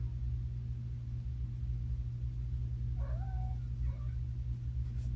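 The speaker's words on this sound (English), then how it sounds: "You meowing, Boo?" A pet cat named Boo gives a couple of short, faint meows over a steady low hum in a quiet room, with no voices during the calls.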